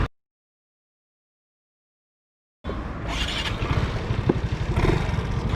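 Aprilia Storm 125 scooter engine starting up after silence, then idling and revving steadily at close range with a low, even mechanical hum.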